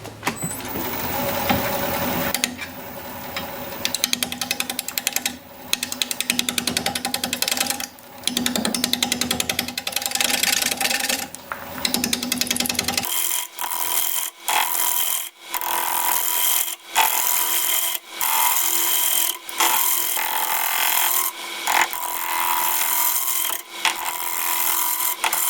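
Wood lathe spinning at 635 RPM while a 5/8-inch bowl gouge cuts a cracked bowl blank: continuous rough scraping and rasping, then a run of sharp rhythmic cuts in the second half, close and fairly loud with no talk.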